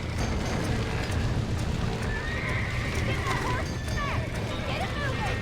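Horses in the Red Dead Redemption video game neigh and whinny with rising, wavering cries over steady hoof clatter and a dense background rumble, while people talk over the game.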